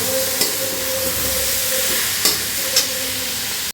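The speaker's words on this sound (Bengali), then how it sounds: "এই যে চিকেনের কিউবগুলো এর মধ্যে দিয়ে ভেজে নেব নাড়িয়ে চাড়িয়ে যতক্ষণ এটা ভালো ভাজা হয়" Marinated chicken cubes for hakka chow sizzling steadily in oil in a pan, with a few sharp scrapes of a spatula as they are stirred, close and loud with no voices.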